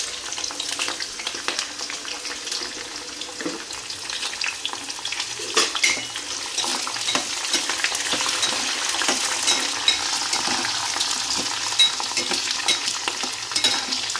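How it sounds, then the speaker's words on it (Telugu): Ginger pieces fry on a low flame with green chilies, giving a steady, close hiss and gentle sizzle broken by occasional soft stirring scrapes. "అల్లం ముక్కలు సిమ్లో పెట్టాను."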